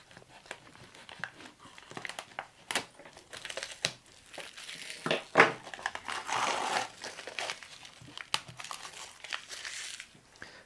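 Clear polythene and paper covering being peeled off a cake, giving a long run of close, busy crinkling and crumpling with sharper crackles and rustles throughout and no talking.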